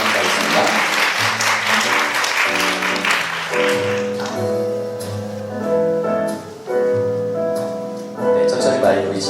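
Audience at a 2023 Chungbuk youth FameLab final applauds a middle-school contestant as she comes onstage, a dense, steady wash of clapping lasting several seconds while a musical accompaniment plays beneath it.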